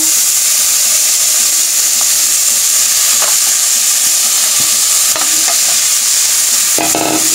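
Onions fry in oil while being stirred, a loud, close sizzle broken by scraping strokes and a few sharp utensil clanks toward the end.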